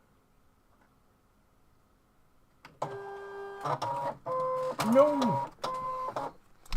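A ScanNCut cutting machine runs a direct cut, its motor whirring in loud stepped, tonal bursts with brief pauses between passes after a quiet start, and a voice exclaims once over it.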